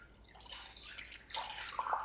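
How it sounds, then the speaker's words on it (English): Lukewarm water poured into a mixing bowl of yeast and sugar for pita dough, a soft continuous splashing and trickling that grows louder and fuller toward the end, quiet and close with no talking. "Adding our lukewarm water."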